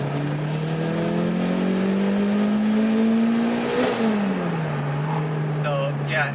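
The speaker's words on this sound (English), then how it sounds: "let's go ahead and ride out second gear right now, and you guys will see. Listen how long this rides out." Toyota MR2 Turbo pulling hard through a long second gear, a steady rising engine note climbing for several seconds, then dipping slightly as the load eases, loud and close from inside the car.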